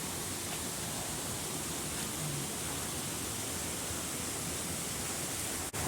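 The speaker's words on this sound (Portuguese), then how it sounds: "Piscininha natural, com essa cascatinha." A small cascade spills into a natural pool on a country farm in Guapimirim, giving a steady, close, unbroken wash of rushing water with no pauses.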